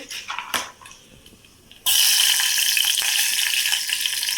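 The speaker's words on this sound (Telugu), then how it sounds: "నూనె పోసి జీలకర్ర ఆవాలు వేసాను, ఎండుమిర్చి ఒకటి వేసాను, పచ్చిమిర్చి ఒకటి వేస్తున్నాను" Green chili goes into hot oil already holding cumin and mustard seeds and a dried red chili, bursting into a sudden loud, steady sizzle after a few quieter crackles and clinks.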